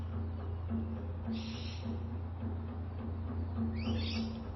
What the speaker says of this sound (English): And also we have birds.